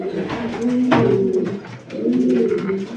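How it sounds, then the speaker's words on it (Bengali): Kaldoma pigeons, including Nazra Kaldoma birds, coo in a loft with repeated low, throaty rolling calls that swell and fade in two clear bouts, close and fairly loud throughout. "সুপার কোয়ালিটির পায়রা"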